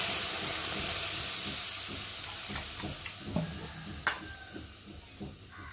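Water poured into a hot pan for rohu fish bursts into a loud steaming hiss that fades away, followed by a few faint clinks and scrapes nearby.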